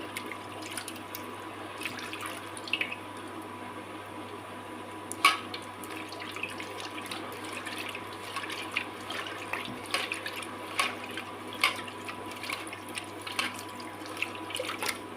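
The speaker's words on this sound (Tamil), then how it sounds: "இந்த புளியை கசக்கி" Water sloshes and trickles steadily, with small splashes and squelching as tamarind is squeezed and worked by hand in a bowl of water.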